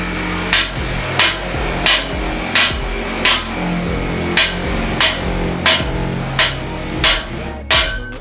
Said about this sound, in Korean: 망치를 사용해 잭서포트를 시공대 길이까지 올려주고 고정 작업을 진행해줍니다